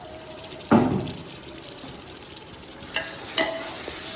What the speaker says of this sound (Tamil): இந்த டைமில் நல்லியை நம்ம சேர்த்தோம் அப்படின்னா அது இன்னும் மசாலாவோட அந்த நல்லி சேர்ந்து கொஞ்சம் நேரம் ஃப்ரை ஆகும்போது